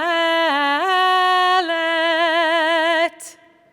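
A single sustained chanting voice sings the Hebrew shalshelet cantillation, holding a wavering, ornamented tone, rising then repeatedly undulating in a long melismatic line before stopping abruptly.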